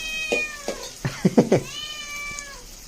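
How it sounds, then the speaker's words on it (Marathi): A cat meows repeatedly up close, a string of loud, drawn-out cries with a few rising and falling calls in quick succession. "मांजर आमचा वाट बघता"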